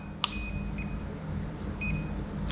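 An SJRC F11S 4K Pro drone remote controller, first version, gives short electronic beeps: a sharp pair early, then a few quick tones, over a quiet background hum.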